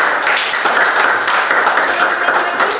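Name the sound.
clapping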